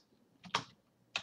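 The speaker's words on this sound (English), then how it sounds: "just type in this command here" Soft, close keystrokes on a computer keyboard come in two small clusters while a command is entered, quiet and separated by a short pause.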